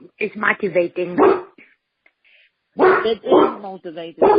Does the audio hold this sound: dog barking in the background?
yes